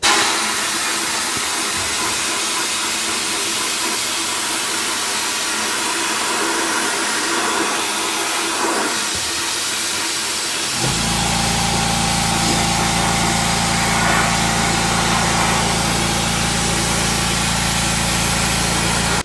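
Sandblasting an intercooler pipe for a 6.0 Powerstroke with an air compressor: a steady, loud rushing hiss runs throughout, joined about halfway by a deeper constant motor drone with a steady hum.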